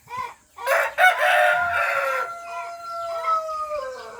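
Chickens in a poultry yard cluck sharply, then a rooster lets out a long, loud crow close by, with more clucks around it and no talking.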